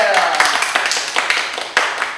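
A small group on a Korean variety show claps their hands in scattered, uneven bursts lasting a couple of seconds, with voices talking and laughing over the clapping.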